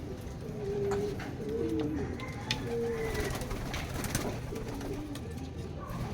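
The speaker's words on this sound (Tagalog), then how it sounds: "Ito na yung old bird mga kalapatids." Racing pigeons coo at a loft, low rolling coos repeating several times over a constant background hum, with faint clatter around them.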